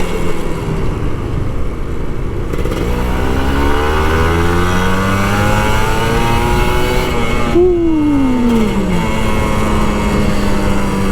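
A Kawasaki Ninja RR 150 two-stroke motorcycle revs and accelerates loudly up close on an empty road, engine pitch rising through the gears with a sharp shift and climb near the end.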